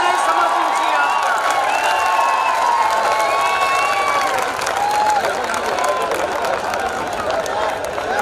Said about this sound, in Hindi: ढंग से ताली बजाए, समर्थन चाहिए आपका।